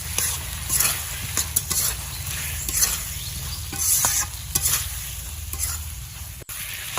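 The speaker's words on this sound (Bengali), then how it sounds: "দিয়ে খুব ভালো করে মশলার সাথে মিশিয়ে আরও 3-4 মিনিট আমি এটা কষিয়ে নেব।" Fried potatoes are stirred into a spice paste in a pan for a Bengali lentil cake curry, a continuous close sizzle with repeated scraping strokes and light clicks of the spatula.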